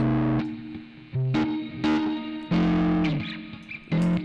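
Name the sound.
Tritik Krush VST fuzzy organic drive distortion effect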